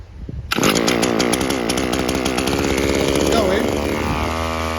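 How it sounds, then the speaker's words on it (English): Stihl petrol trimmer engine firing up after a short pull, then running loud and steady at high revs close by, with a raspy two-stroke buzz throughout. "Right, so it started, but obviously let's start try and start with choke"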